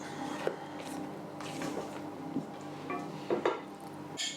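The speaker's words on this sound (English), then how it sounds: "So give your flour a good mixing" A spoon scrapes and folds flour into a thick Irish Christmas cake batter in a mixing bowl, giving soft, irregular knocks and squelches at close range with a low hum behind.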